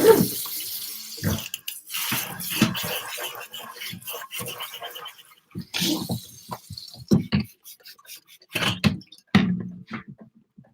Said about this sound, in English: I got to rinse out my sink